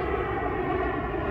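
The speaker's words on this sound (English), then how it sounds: "That's another plane." An airplane passes overhead on its landing approach in California, its engine a loud, steady roar filling the whole short stretch, with no talk over it.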